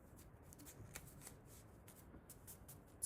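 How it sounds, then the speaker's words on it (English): A deck of cards being shuffled in soft, rapid riffles, repeated rustling flurries close up and fairly quiet, with no voices. "I'm going to begin by shuffling my deck of cards 3 times"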